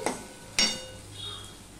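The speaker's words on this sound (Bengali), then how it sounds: "আদা আর টমেটো কাঁচা লঙ্কা এগুলো প্রায় কষানো হয়ে গেছে" Tomato, ginger and green chili sautéing in a pan, with two sharp clinks of a utensil against the pan followed by a soft, faint sizzle.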